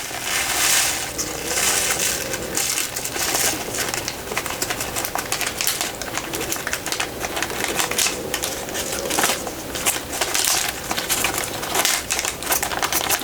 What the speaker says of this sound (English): We're going to put these in the plastic bag as carefully as we can.